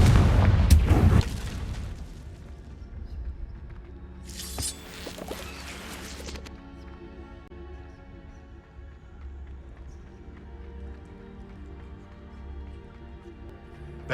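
A Confringo spell explodes in Hogwarts Legacy with a loud boom and crackling burst at the start, followed by a second sizzling blast a few seconds later, then a low rumbling game ambience that fades under a steady hum.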